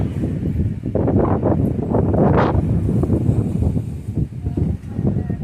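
Gusty wind buffets a hilltop temple at Melkote near Mysore, blustering loudly against the microphone in uneven surges and rustles throughout.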